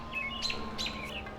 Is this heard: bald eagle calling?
yes